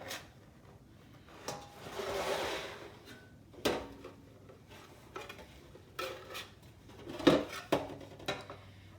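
Baked cornbread dressing being crumbled in a 9x13 pan, heard as soft scraping and crumbling with a few sharp utensil clinks against the pan, alone and fairly quiet.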